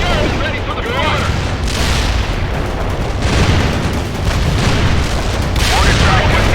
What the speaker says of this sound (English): Mortar strike with near enemy units in target area